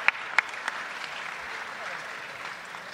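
Light, steady applause fills a parliamentary assembly hall, a dense patter of clapping from many hands that holds at an even, moderate level throughout, with a couple of sharper claps standing out at the start.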